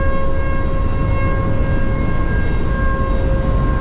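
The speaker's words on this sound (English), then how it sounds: "Tornado sirens everywhere." Tornado sirens wailing during a storm in Iowa, a loud, sustained steady tone ringing continuously over a low rumble of wind and background noise.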